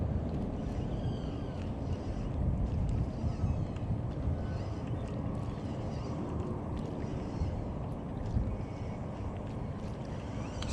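Wind blows steadily across a small home lake in Florida during kayak bass fishing, a constant broadband rush with faint microphone buffeting and soft water sounds, continuous and fairly quiet, with no talk.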